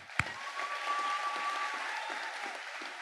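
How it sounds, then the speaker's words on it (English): Audience applause fills a school gymnasium at a high school graduation ceremony, a steady, even patter of many hands after a sharp opening clap, with no talk over it. "Yes, let's clap for that."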